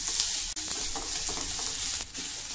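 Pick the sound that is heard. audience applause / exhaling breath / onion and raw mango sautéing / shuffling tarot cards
onion and raw mango sautéing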